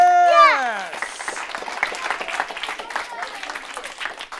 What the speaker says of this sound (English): Can we have a nice round of applause for a kid who was brave enough to speak their concerns?